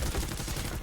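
Rapid gunfire from a directive weapon in Planetside 2 that fires two bullets at a time, a short dense burst of shots close and loud.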